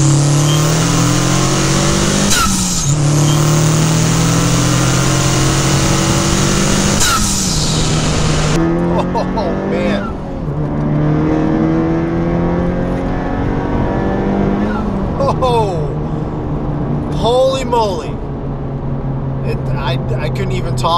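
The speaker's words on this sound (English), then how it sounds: "after switching to the HKS and the PRL charge pipe kit, the boost comes on like that." Turbocharged car with an HKS intercooler and PRL charge pipe kit accelerating hard through the gears, engine note climbing with each pull, dropping at the shifts and climbing again, loud and close, with someone talking over it.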